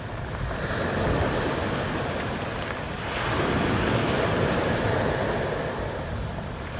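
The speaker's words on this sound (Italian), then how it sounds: "E questo è il mare oggi, fine giugno in Sicilia." Sea waves wash onto the Sicilian coast in late June, a steady broadband surf rolling continuously with a swell that builds around midway, mixed with some wind buffeting the microphone and no voices.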